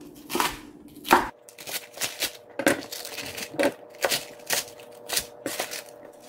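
A kitchen knife slices napa cabbage diagonally on a cutting board for summer kimchi: about a dozen crisp, close chops in a loose, uneven rhythm with nothing else heard.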